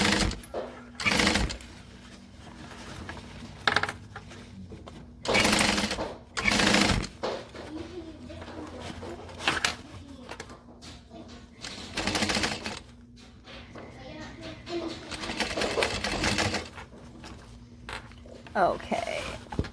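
Sewing machine basting a bag panel, heard as short bursts of rapid stitching that start and stop repeatedly, close by, with a person talking in between and over them.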